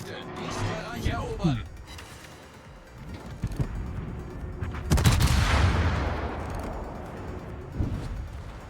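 Ship guns fire shells in the naval game World of Warships, with a few booming salvos and rumbling blasts spaced through the clip while someone talks over them.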